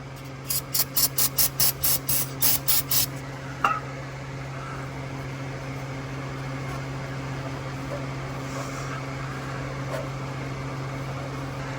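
Brake cleaner is sprayed from an aerosol can around a Grand Marquis engine during an oil change. About ten quick, sharp spray bursts sound in rapid succession, then only a steady low background hum remains.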